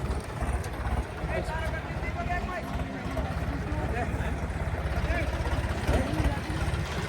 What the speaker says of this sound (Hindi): भैया दोनों ट्रैक्टर चल दिए हैं।